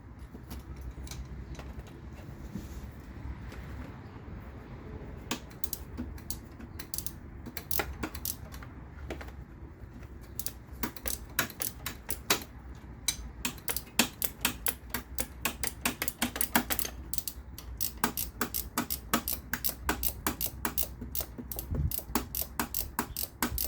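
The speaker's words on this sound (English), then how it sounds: "We'll see if we can get a ratcheting wrench on there" A ratcheting wrench turns the coolant temperature sensor on a 2016 Jeep Wrangler with a 3.6L Pentastar engine, its rapid clicking repeating in close, loud bursts that grow denser over the second half.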